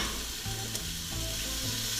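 Mushrooms, onions and tomatoes sizzle in a pan, a brief, close, steady frying hiss with a faint clink of a utensil, no voices.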